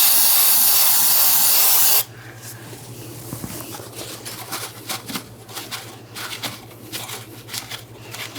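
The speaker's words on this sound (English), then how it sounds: "We'll use some parts cleaner and clean up our mess" A short, loud hissing burst of parts cleaner sprayed from an aerosol can while cleaning up after bleeding the brakes on a 2006-2012 Ford Fusion, followed by quiet handling and light shuffling noises.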